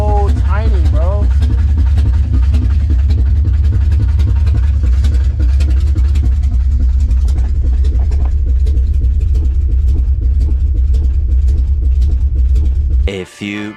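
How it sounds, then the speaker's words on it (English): A Ford Mustang engine settles toward idle with a steady, heavy low rumble throughout, close and loud, briefly cutting out at the very end; a voice speaks faintly over it at the start. "Takes a while for it to get to idle."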